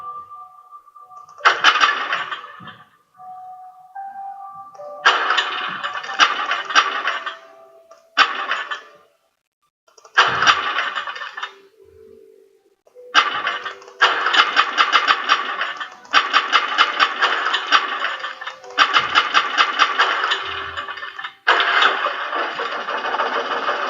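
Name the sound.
old generator starting in video game Alan Wake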